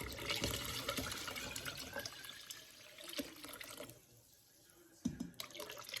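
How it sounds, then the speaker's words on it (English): Water pours into a pot of oxtail soup (caldo de res) in a kitchen, a soft running splash that tapers and pauses before a brief final trickle and clink. "I am gonna add some more water."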